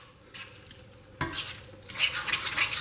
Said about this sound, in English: This will actually, as you see, deglaze the pan from all the bacon bits